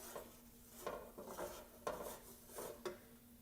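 A thick flour and butter roux being stirred in a pot for Cajun shrimp and grits, a spoon scraping and knocking against the metal in repeated strokes, close and moderately loud with a steady low hum behind.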